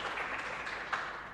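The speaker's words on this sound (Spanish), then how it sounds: "un fuerte aplauso para Fabricio." A congregation applauds inside a church, a dense, steady patter of clapping from many hands that holds without a break for the whole short stretch.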